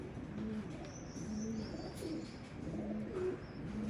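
A Teddy pigeon cooing in a series of soft, low, throaty calls that repeat about every second, close by and fairly quiet over light background hiss, with some faint higher chirps mixed in.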